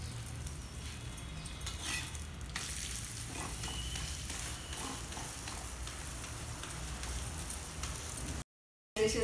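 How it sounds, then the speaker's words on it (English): A chapati cooks in oil on a pan, making a soft, steady sizzle with light crackles and occasional handling clatter, close and fairly quiet, cutting off briefly near the end. "Add some oil now and allow it to cook."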